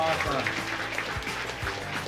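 A crowd applauds fifth-grade painting winners at a community puzzle unveiling in Washington City, Utah, producing a brief spatter of clapping mixed with voices talking over it.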